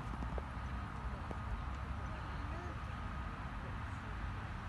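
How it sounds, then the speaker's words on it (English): A horse at Hatfield Park Farm gives faint clip-clop hoof sounds on the ground amid quiet outdoor background noise, fairly distant and soft. "Actually, it's a horse!"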